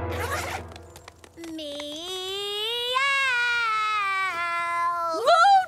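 A voice imitates a cat's meow in one long, drawn-out wavering cry, preceded by a brief rustle and ending with a rising squeak.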